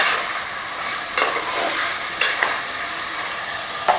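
Vegetables and soya chunks frying in oil for Hyderabad-style vegetable soya pulao, a steady broad sizzle with a few louder stirring scrapes, close and continuous, with no voices.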